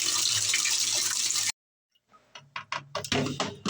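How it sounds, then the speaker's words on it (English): Water rushes loudly into a washing machine, then cuts off abruptly, followed by a series of drips and splashes. "I'm just filling up the washer now"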